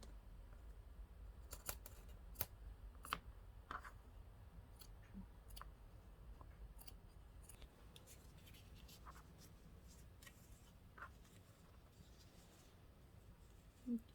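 Scissors snipping through a sock for a leprechaun gnome craft, a series of sharp, quiet cuts spaced irregularly over a soft background, close to the listener.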